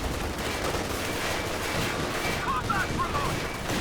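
A flak half-track in Company of Heroes 2 fires on a rifle squad in rapid, continuous bursts of loud gunfire mixed with battle noise, and a few whistling tones appear near the end.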